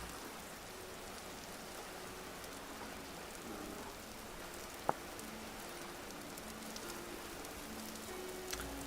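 Steady rain falls in the video game Vintage Story, a faint, even hiss of drops on surfaces that continues throughout, with one sharp click partway through and no voices.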